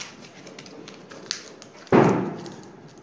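A single loud firework boom from New Year's celebrations outside bursts out suddenly and rolls off in a long decaying rumble, following a stretch of quiet indoor background.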